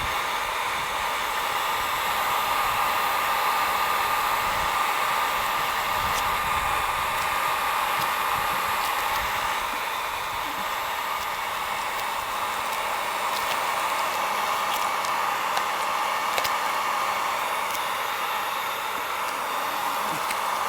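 A heat gun blows a steady, loud, close hiss of hot air onto stripe tape on a boat hull, continuing unbroken throughout with no talking.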